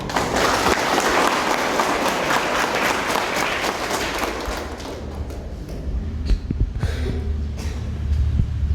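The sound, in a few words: audience applause for the governor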